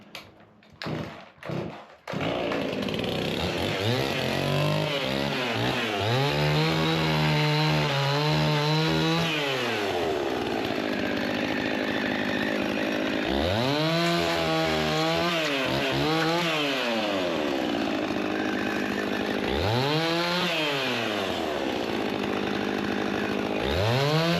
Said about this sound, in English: Indispensable chainsaw.